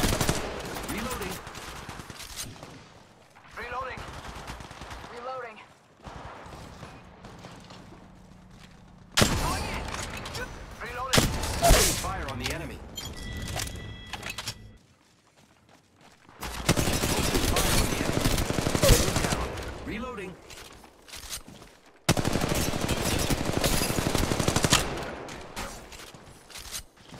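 Bursts of rapid automatic gunfire from an Apex Legends Mobile squad fight, loud and near, coming in several long volleys separated by short pauses, with game sounds and brief callouts in between.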